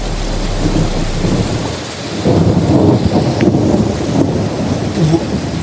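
Heavy rain pours steadily and loudly while deep thunder rolls through, the downpour dense and close throughout.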